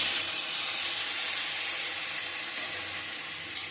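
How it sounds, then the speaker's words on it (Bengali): Water poured into a hot frying pan of yardlong beans and potato, a broad rushing hiss and sizzle of steam that slowly eases off, with a small clink just before the end. "এবারে আমি জল দেবো"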